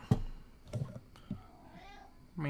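A kitten meows several times in short, separate calls, close and fairly clear, with a few soft knocks and faint household noise between them.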